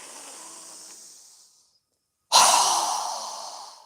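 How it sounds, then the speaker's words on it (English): A slow, deep breath drawn in during a yoga exercise, a soft airy rush that fades out, then a pause and a sudden, much louder breath pushed out that tails off gradually. "So go ahead and inhale."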